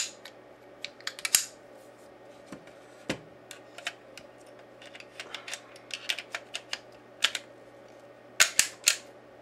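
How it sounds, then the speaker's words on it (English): An FN Five-seven pistol barrel slides back into place, with sparse, sharp metallic clicks and snaps close by in a quiet room, ending in a quick cluster of clacks. "To put it back, you just slide your barrel in, bring it in, it drops in place."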